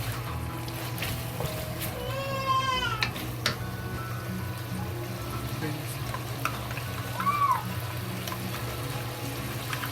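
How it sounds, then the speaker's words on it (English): Steady crackling sizzle of pork frying in a wok over medium-low flame, constant and close, with faint high squeaks and brief clatters on top. "And then we turn the flame low, medium, little on medium. And we fry."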